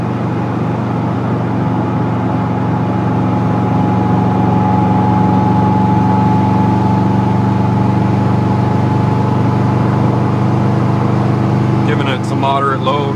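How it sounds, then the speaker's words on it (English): A turbocharged Subaru EJ257 engine in a SOHC hybrid build, heard from inside the car, drones steadily under moderate load with a constant low rumble and faint turbo whine, while a voice comes in near the end. "Moderate load, still not really into boost yet. Really getting the turbo to turn though, you can hear"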